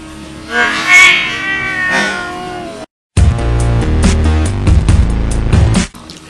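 A cat yowls and growls in drawn-out, wavering cries for about three seconds, then a brief silence gives way to loud music.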